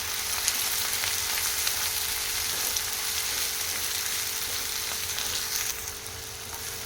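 Bitter gourd (boda kakarakaya) pieces fry steadily in a tablespoon of oil in a pan, a dense, even sizzle that holds loud and unbroken throughout, with no talking.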